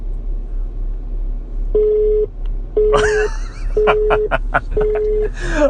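A telephone busy signal sounds during a prank call: four evenly spaced beeps, loud and close, with voices talking and reacting over the later tones.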